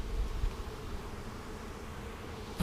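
Honey bees in a package colony hive, a low continuous buzzing hum, faint and steady, with a brief louder rustle at the end.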